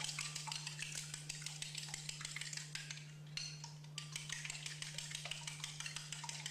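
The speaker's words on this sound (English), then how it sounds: "I'm going to put a little of the salt, pepper, and garlic into the egg mixture here. And then we just blend it up." A seasoned egg mixture with salt, pepper and garlic is whisked for a bacon and vegetable quiche, giving rapid, faint, steady scraping strokes against a bowl over a low steady hum, with one brief pause midway.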